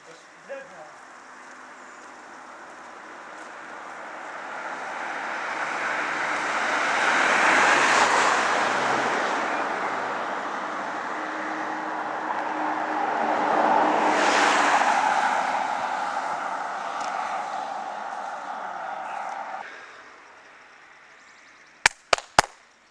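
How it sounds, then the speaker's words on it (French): A car passes along a quiet rural road near a village, its engine swelling as it approaches, fading, then a second vehicle swells past before a few sharp clicks at the end. "La belle voiture ici!"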